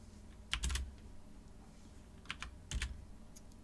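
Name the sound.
typing on a computer keyboard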